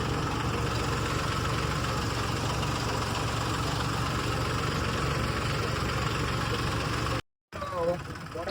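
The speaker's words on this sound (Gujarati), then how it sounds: "અમે જઈએ છીએ ટ્રેક્ટર લઈને ગામમાં" Tractor engine running steadily while being driven to a village, a loud continuous low rumble and drone filling the clip, then a brief cut and a short stretch of rougher, shifting engine noise.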